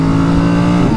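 A 2022 Kawasaki Z650 RS motorcycle with a parallel-twin engine running loud and close, a steady droning engine note sustained throughout.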